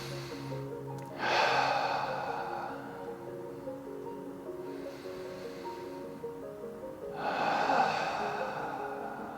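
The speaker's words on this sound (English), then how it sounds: "we're going to breathe through this for 5 or 6 breaths" Slow, deep breathing during a leg stretch in a back pain exercise: two long, close, airy exhales about six seconds apart, softer breaths between them, with no talking.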